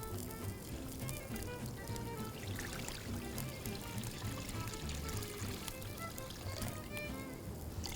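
Seasoned water pours steadily into a cooking pot holding a leg of mutton, a continuous splashing, gurgling stream that runs without a break at moderate volume.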